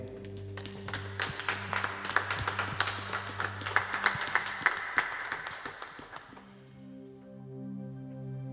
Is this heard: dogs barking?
no